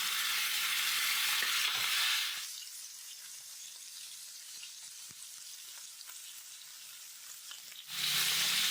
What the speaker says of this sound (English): If your skillet doesn't make that sound when you put your steak in,